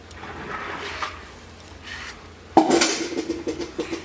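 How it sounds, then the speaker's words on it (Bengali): Young bottle gourd being cut in a kitchen, with a sharp knock of blade on board or pot followed by a run of clattering and scraping, close and fairly loud, no voices. "এইভাবে সব লাউগুলো কেটে নেব।"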